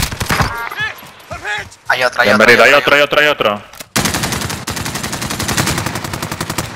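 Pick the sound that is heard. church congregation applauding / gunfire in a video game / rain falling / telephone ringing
gunfire in a video game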